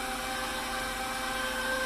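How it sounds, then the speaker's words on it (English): An electric mixer whisks oil and flour into dry ingredients, giving a steady, close, unbroken motor whir with a high whine and no talk. "I'm gonna let it whisk for just a second"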